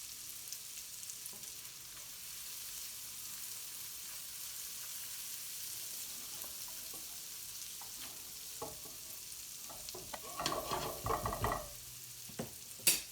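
Tomato puree hits a hot frying pan for a British Indian restaurant-style curry base, setting off a steady close sizzle that swells into louder bursts of spattering and stirring toward the end.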